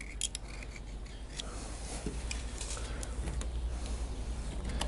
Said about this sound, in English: which is what I use a pocket knife for actually, to make sure that this edge is all nice and clean before you put the new seal in.